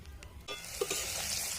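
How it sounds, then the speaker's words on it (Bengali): Potatoes frying in mustard oil in a wok: after a quiet start, a faint but steady sizzle swells up close and holds, with a small clink of a utensil. "আগে আমি আলুগুলো ভেজে নেব।"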